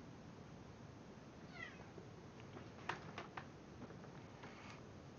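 A pet cat named Nova gives a few faint, short meows indoors, with rising and falling cries over a low steady background hum.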